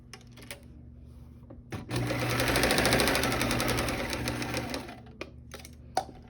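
A sewing machine stitches a fabric 3D mask in one continuous run of rapid, steady needle clatter lasting a few seconds, close and clear, with soft handling clicks before and after.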